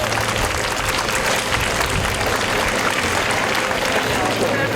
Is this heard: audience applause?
yes